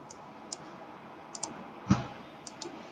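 Several sharp mouse clicks on a computer in a quiet room, spaced irregularly, with one louder click in the middle.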